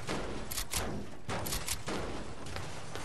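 Fortnite gunfire cracks out in several separate bursts of shots, fairly distant and sharp, with brief gaps between volleys.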